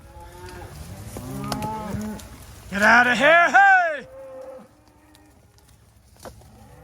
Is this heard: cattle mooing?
yes